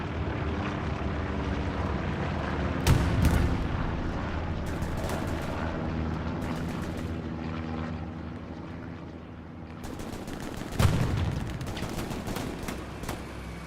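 Machine gun bursts in the WWII shooter Hell Let Loose, rapid sharp volleys cutting through a steady engine drone, with louder close bursts near the start and again toward the end.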